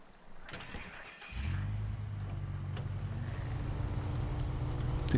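A car engine in the SnowRunner game starting up and settling into a steady low rumbling idle that grows slightly louder, following a few quiet clicks.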